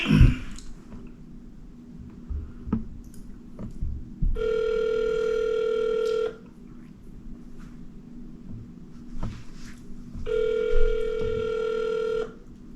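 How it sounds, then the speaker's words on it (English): A telephone handset gives a steady dial tone in two long bursts, separated by quieter stretches with a few sharp clicks from dialing or button presses. No one speaks over it. "I'm going to hit phone, and I'm going to dial it."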